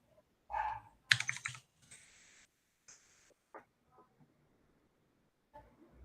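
Computer keyboard typing comes as a few scattered clicks and short bursts of keystrokes, with pauses between them, fairly close and otherwise quiet.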